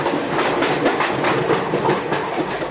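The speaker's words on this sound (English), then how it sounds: "Cargo trains looked busier." Cargo trains roll along a railway through central Indian coalfields, a steady loud rumble with rhythmic clickety-clack of wheels over rail joints, continuous and close, no voices.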